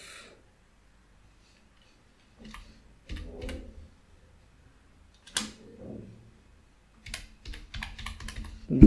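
Several short bursts of keystrokes on a computer keyboard, close and fairly quiet, clustered around the middle and end with pauses of near silence between them.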